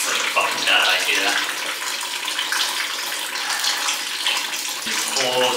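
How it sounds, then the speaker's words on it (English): Water runs and splashes steadily from a leak in the side of a shipping container, a continuous gushing trickle close by, with a faint voice murmuring underneath. "water was coming out the side"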